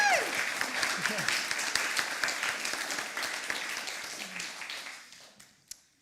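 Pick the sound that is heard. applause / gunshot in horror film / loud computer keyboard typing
applause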